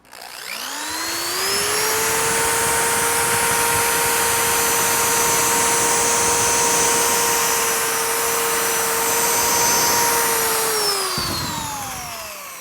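A headlight lens is sanded with 800-grit sandpaper, with a loud, close motorized whine that spins up, holds steady for about ten seconds, then winds down.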